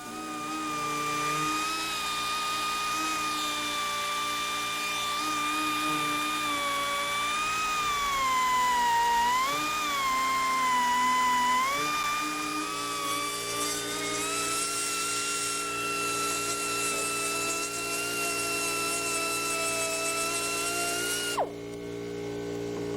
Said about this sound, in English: Use an air grinder or a drill to make holes in the fuel tanks where the caps and fuel gauge sender will go